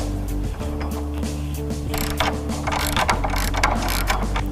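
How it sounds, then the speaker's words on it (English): A 15mm socket wrench ratchets steadily, tightening bolts during assembly of a Spalding inground 44-inch polycarbonate basketball system, with continuous close clicking that grows busier toward the end, alone without talk. "Now using a 15mm socket wrench and an adjustable wrench, you can tighten those into place."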